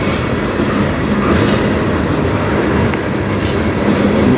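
A train rolls steadily past on the rails of the Strathroy Subdivision, a loud, continuous rumble with rhythmic clickety-clack of wheels over joints and faint metallic squeals, heard up close with no voices.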